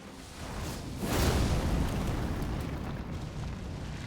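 A weapon art in Elden Ring sends the character leaping forward and slamming down in an area attack, a rising whoosh that swells into a loud, rumbling burst and then a sustained, roaring crackle that slowly fades.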